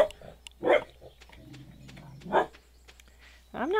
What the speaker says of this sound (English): I'm not letting her out until she stops barking